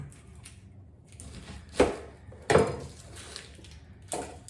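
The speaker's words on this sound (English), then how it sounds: "We are going to slice 2 onions." A knife slicing through onions on a board, with three separate sharp chopping thuds spaced apart over quiet kitchen background.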